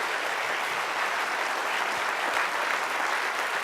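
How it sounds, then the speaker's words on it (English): An audience applauds speaker Jeff Call with a dense, steady round of clapping that fills the room at an even level for a few seconds. "I just want to give a round of applause to Jeff Call."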